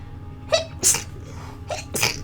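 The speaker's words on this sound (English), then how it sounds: "Excuse me, I'm gonna sneeze." Two sneezes in quick succession, each a sharp, bright burst at close range, with a quiet steady hum in the background.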